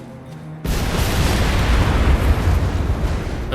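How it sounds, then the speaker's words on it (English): A sudden loud boom bursts in after a quiet moment and rolls on as a dense, continuous rumble of explosions at a chemical factory in the video game The Saboteur. "A lot of the explosions on the outside are hitting the inside, which is good."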